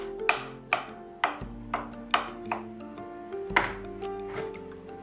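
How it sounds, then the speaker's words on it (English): A knife chops a boiled egg on a cutting board in sharp, separate knocks, about a dozen strikes at an uneven pace, close and fairly quiet. "It's sliced, but I'm just gonna chop it."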